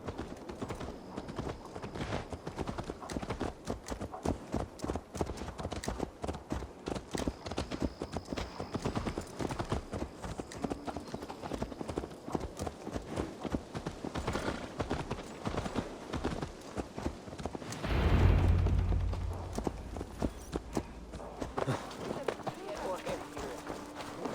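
Rapid, steady clip-clop of horse hooves trotting throughout in Assassin's Creed Valhalla, with a voice speaking over it and a brief louder whoosh near the end.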